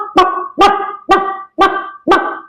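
A dog barks five times in a steady, evenly spaced series, each bark loud, close and sharp-edged, with no other sound between them.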